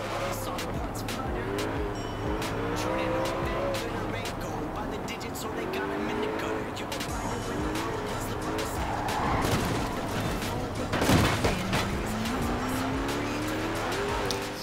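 A car engine in Forza Horizon 4 revs hard and climbs through the gears while accelerating down a straight. The loud, continuous engine note rises in pitch again and again, with tire squeal and skidding, and a brief louder burst near the end.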